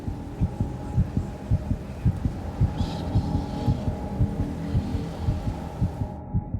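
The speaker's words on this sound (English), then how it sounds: "I'm one with my heartbeat." A human heartbeat: steady, close, low thumps repeating in an even rhythm, with a soft hum underneath.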